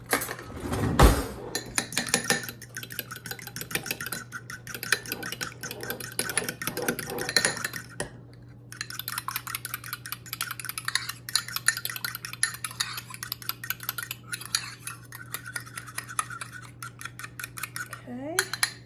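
Homemade noodle dough being mixed with cool water in a bowl, heard as close, busy scraping and clinking of a utensil against the bowl, steady and rhythmic throughout with one louder knock near the start.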